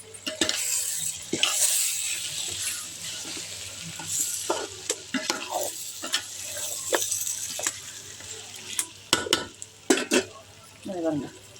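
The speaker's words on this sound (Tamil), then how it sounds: "தக்காளி கொஞ்சம் வதங்கி வச்சு இப்போ சிக்கன் போட்டுக்கலாம். தயிர் இன்னும் உப்பு போட்டு தயிர் போட்டு வதக்கலாம்" About a kilo of chicken sautés with tomato, curd and salt in a pan for biryani, a steady sizzle broken by repeated scraping and clinks of a metal spoon stirring against the pan.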